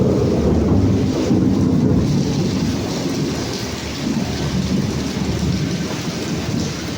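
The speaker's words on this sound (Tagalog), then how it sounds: "Lakas ng kidlat." Heavy rain pours steadily outdoors in Pampanga with thunder rumbling through it, a dense, loud, continuous wash of water with low booming swells and some wind buffeting the microphone, no voices.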